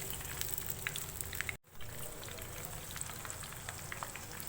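Marinated fish shallow frying in lightly heated oil in a pan over a medium-low flame, a steady crackling sizzle with scattered pops, cut by a brief gap partway through before the frying resumes.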